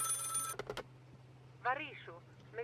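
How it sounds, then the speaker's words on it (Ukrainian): A telephone rings in the Contraband Police video game, several short bursts of quiet ringing over a steady hum, with a voice speaking briefly afterward. "Дзвінок дзвонить."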